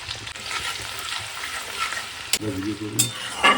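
Chopped ginger and garlic sizzle in a little oil over a full flame, a loud, steady frying hiss running throughout with a couple of sharp crackling bursts near the end.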